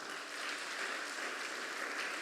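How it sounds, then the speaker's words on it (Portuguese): A church congregation applauds during a Sunday celebration service, giving a soft, continuous wash of clapping that sounds somewhat distant and stays level throughout. "Então dê um aplauso ao Senhor."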